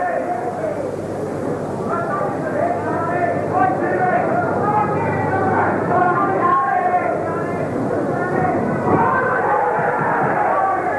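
Packed boxing crowd in the Plaza Ballroom at the Dave Douglas vs Gary Jacobs rematch, a dense steady hubbub of many overlapping voices filling the hall.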